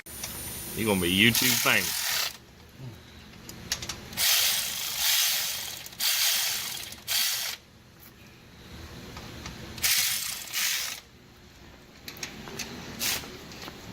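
An electric wrench works on the head bolts during an engine head gasket repair, giving loud sustained whirring bursts broken by short pauses, with a brief spoken remark partway through.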